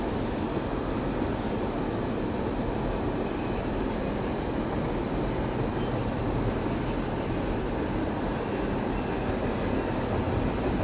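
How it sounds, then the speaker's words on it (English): Norfolk Southern freight train rolling past in lake effect snow, a loud, steady rumbling roar that holds at the same level throughout with no pauses. "got a Norfolk Southern train going by"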